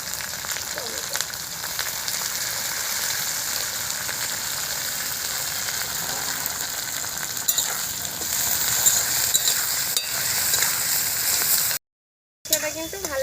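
Onion and green chilies sizzle in goat fat in a pan while being stirred, a continuous crackling hiss with occasional scraping stirs, fairly close and steady, briefly cutting out near the end.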